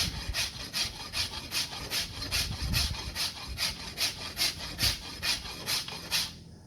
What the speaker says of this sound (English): With the rasp, and then tidy up.